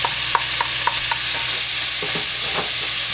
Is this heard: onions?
yes